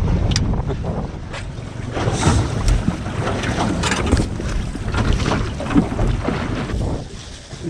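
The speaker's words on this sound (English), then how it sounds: "Windy" Strong wind buffets the microphone in gusts over open water during wet weather while fishing, with rushing, blustery noise rising and falling throughout.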